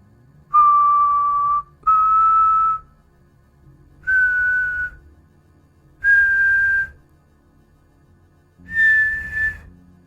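Five long, eerie, steady whistled notes, each rising slightly in pitch, sound alone against a low rumbling backdrop, evoking the ghostly whistle of El Silbón.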